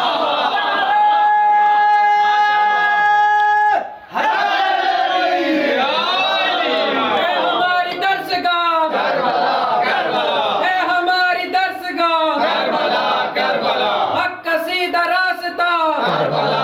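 A large crowd chanting religious slogans at a Muharram gathering, voices rising together in loud rhythmic calls and responses, with a lone leading voice between waves of massed shouting, near and filling the space.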